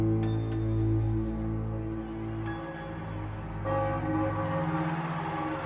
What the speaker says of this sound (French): les cloches de la basilique Saint-Pierre résonnent dans Rome